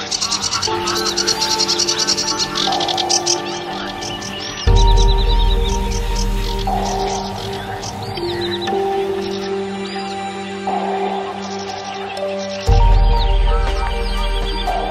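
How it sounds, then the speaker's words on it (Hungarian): Birds call outdoors: many overlapping chirps and whistles, loud and close, with louder animal cries and bursts of low noise over a steady background. "Mintha madárhangokat is hallanék."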